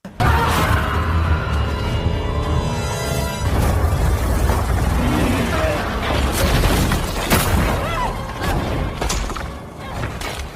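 Building collapsing in an explosion during a disaster film, with loud sustained rumbling booms, crashing debris and thuds layered over a dramatic score that carries throughout.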